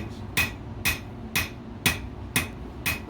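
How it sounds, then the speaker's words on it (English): A blacksmith hammers a thick blade with six sharp, ringing metal blows at a steady, unhurried rhythm, each strike close and loud with no talk. "just hammering on the blade right now"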